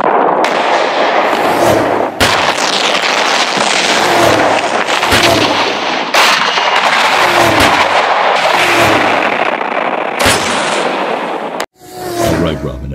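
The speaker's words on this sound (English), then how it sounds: "The missile will hit in 3" Missiles striking space debris in an animated Lego Justice League episode: a dense run of loud, booming explosions and blasts, one after another over about eleven seconds, then a brief quieter tail.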